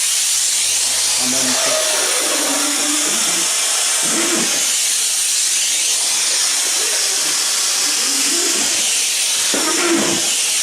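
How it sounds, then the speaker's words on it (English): A Comforday handheld steam cleaner blasts steam in a loud, continuous hiss that holds steady throughout, with a voice briefly audible underneath. "Look at the amount of steam generates"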